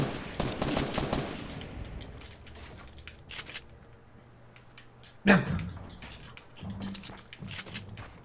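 Assault rifle fire in a Fortnite match crackles in a dense burst at the start, followed by scattered quieter shots, a sharp loud crack near the middle and a few further pops, with faint game sounds in between.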